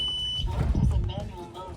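A Lake Lifter direct-drive boat lift motor control box powers on with a short, steady high beep lasting under half a second, close by, followed by handling noises and a voice talking.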